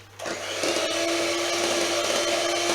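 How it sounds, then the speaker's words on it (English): A steady, continuous mechanical whir from a hand whisk beating eggs and caster sugar for a traditional Swiss roll, starting abruptly and holding an even, loud drone to the end. "we're going to whisk that up with the hand whisk"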